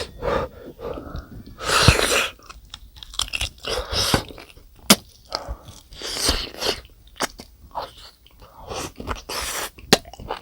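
Close, wet chewing and crunching while eating braised beef short ribs by hand, with irregular bites, smacks and breaths spread across the moment.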